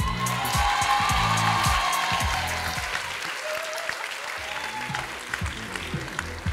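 Audience applause fills a graduation ceremony hall for a Master's in Marketing program, a dense sustained clapping that starts loud and slowly thins over several seconds, with a few scattered claps standing out near the end.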